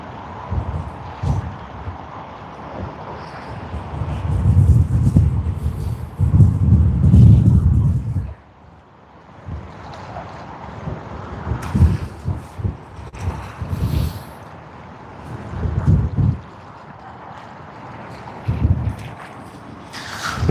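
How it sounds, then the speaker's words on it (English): Strong gusty wind buffeting the microphone at Sydney Airport, with heavy low rumbling surges that rise and fall, loudest early on, then easing into intermittent bursts. "The wind has been a bit crazy this morning."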